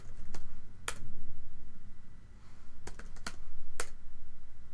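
A password being typed on a computer keyboard: a few sharp, close key clicks in two small bursts, with a steady low hum underneath.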